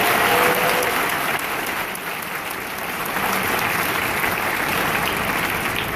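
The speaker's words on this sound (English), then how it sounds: "Let's give him a round of applause, Chad Griffith." A gala crowd at a campaign fundraiser dinner claps in a dense, sustained round of applause, even and loud throughout with no voices standing out.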